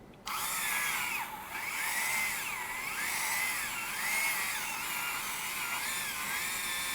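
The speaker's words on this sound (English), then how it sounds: "So it takes a little while to drill these holes." Power drill boring holes in a carbon plate for a Mini4WD rear stay, a steady loud whine with the pitch rising and dipping as the bit bites, heard alone.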